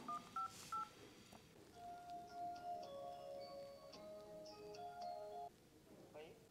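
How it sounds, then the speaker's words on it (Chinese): Telephone keypad tones as a number is dialed, a run of short, clean beeps at varying pitches followed by a few longer held tones, fairly faint over quiet room noise. "这个电话看能不能打得通啊"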